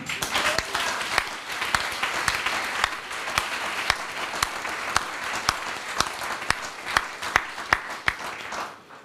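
Church congregation applauding during a Methodist Sunday worship service, steady dense clapping from many hands filling the room, with a few sharper individual claps standing out near the listener.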